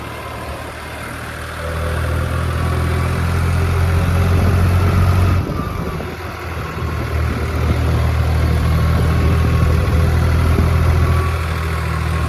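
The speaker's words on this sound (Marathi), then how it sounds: "आता ट्रॅक्टर बा कसे रपसप निघाले" Tractors drive along a paved road with a steady, close, low engine rumble and a continuous drone throughout, with no talking.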